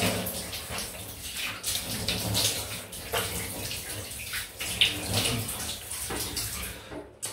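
Cold tap water runs steadily for a rinse after a shave with a double-edge safety razor, a continuous broadband splashing rush with slight surges, close by and alone.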